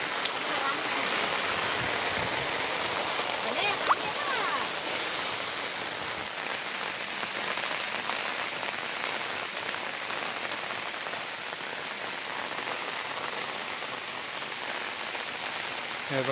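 Heavy rain beats down steadily on surfaces, a dense, even hiss of drops that goes on without a break, with no talk over it.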